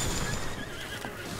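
A horse neighs in the video game Breath of the Wild, a whinny heard alone over steady background game sound with faint hoof clip-clop, lasting just over a second.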